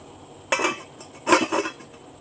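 Metal clanks of a lid being set onto a pot of spicy tamarind curry with mango, cashews and eggplant, two quick clattering hits close by, with a faint background hum.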